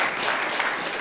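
A short burst of dense audience clapping at a campaign event on college costs, loud and continuous with no voices over it.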